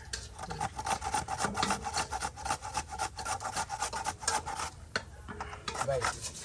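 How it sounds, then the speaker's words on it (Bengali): Raw potatoes being shredded into fine strips on a hand grater or cutting tool in a home kitchen, giving a steady rasping, scraping rhythm of repeated strokes, close and fairly loud, with brief pauses near the end. "সুন্দর করে দেখেন আলু কুচি করা হইতেছে"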